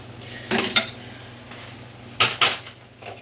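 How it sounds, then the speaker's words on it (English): A spatula scrapes around a mixing bowl in two short bursts of scraping and light knocks, close and fairly loud, with quiet pauses between. "scrape my bowl."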